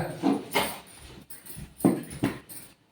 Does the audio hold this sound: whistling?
no